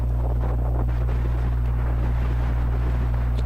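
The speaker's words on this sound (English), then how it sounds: "The wind continues to blow here. I believe you can hear it on the broadcast right now." Wind buffets a microphone at an outdoor baseball broadcast, a constant loud low roar and rumble filling the whole stretch with no voices.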